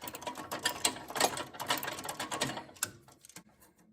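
A socket wrench working on the pivot axle bolt of a John Deere L130 lawn tractor, a close run of rapid ratcheting clicks that slows and fades toward the end.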